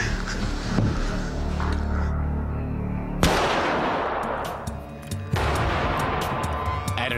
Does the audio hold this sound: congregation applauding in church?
no